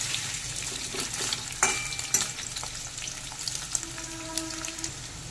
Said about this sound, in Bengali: সয়াবিনটাকেও একটু নেড়ে চেড়ে আলুর সাথে ভেজে নিচ্ছি সামান্য একটু।